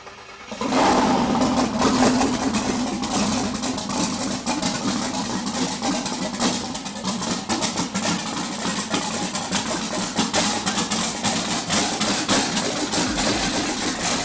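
A twin-turbo 1975 Chevrolet Caprice junkyard donk fires up with a sharp start, then runs loud and rough, idling and revving unevenly nearby for about fourteen seconds.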